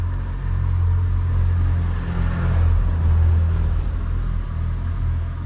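A car drives past along a village road, a steady low rumbling engine and tyre noise that swells and fades gently over several seconds, moderately close with no talking.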